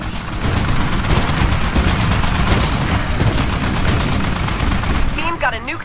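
Rapid turret gunfire in a video game, loud sustained bursts over a dense battle din, with a brief electronic warble at the close.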